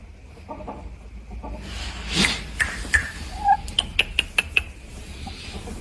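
A six-month-old Japanese Shamo rooster gives a string of short, sharp clucks, growing more frequent toward the end, heard close against a low background hum.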